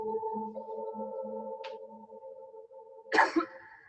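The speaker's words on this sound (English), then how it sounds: "A person coughs once" A single sharp cough bursts out near the end, loud and close, over a steady low hum with a faint click just before it.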